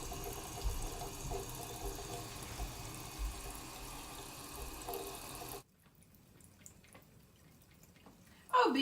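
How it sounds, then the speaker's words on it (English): Water running from a household faucet in a steady, soft hiss that cuts off abruptly partway through, leaving near-quiet room tone before a brief louder noise at the end. "I hear the faucet"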